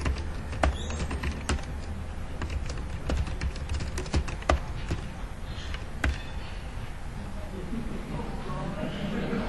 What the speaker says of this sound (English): And what am I typing?